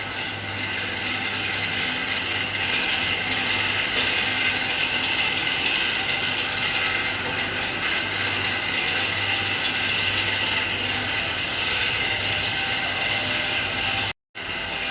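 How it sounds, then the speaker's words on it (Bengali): A bottle-making machine in a factory runs loud and continuous, a dense mechanical clatter and rumble with a steady low hum, near and unbroken until a short cut at the end. "এই মেশিনটা দিয়ে বোতল তৈরি হয়।"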